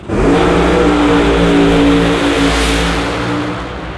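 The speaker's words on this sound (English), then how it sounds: "Tim Boychuk is driving away" A drag racing car accelerates hard down the track, its loud, close engine roar climbing in pitch before easing off slightly toward the end.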